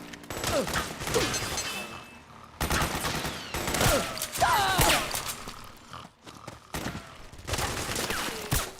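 Suppressing gunfire rattles through a Metal Gear Online match: several loud bursts of rapid automatic shots come in clusters separated by brief lulls, with scattered impacts and battlefield clatter between them.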